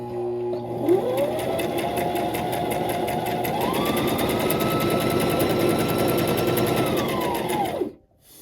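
A sewing machine stitches a zigzag under foot-pedal control, its motor revving up, whirring steadily and loudly close by with a rapid mechanical needle rattle, rising in pitch midway before stopping abruptly.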